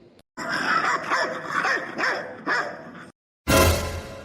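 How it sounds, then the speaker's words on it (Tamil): A dog barks in several close, loud bursts, with short gaps between them and a sharp cut-off, followed by a brief burst of noise at the end. "நாய் வந்து கடிக்கிறதுக்குள்ளே ஓடிடுவோம்"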